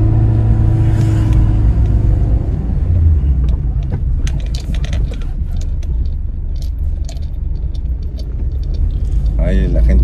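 A car grinds uphill in first gear with a low, steady engine rumble throughout, small rattles and clicks on top, and a person talking over it.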